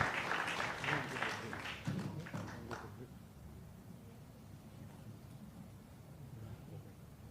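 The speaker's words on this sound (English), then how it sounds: "Let's give our panel a big round of applause." Applause from an audience rises and continues for a few seconds, then fades into quiet room noise.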